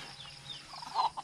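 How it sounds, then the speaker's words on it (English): Chickens on a rainy farm in Mindanao, Philippines, cluck softly, with a louder burst of clucking near the end over steady ambient rain-soaked background noise. "You little chickens."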